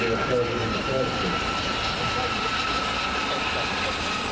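A Gazelle helicopter gives off a steady, high-pitched turbine whine at an air show display, loud and continuous with a broad engine roar beneath, and a voice speaks over it.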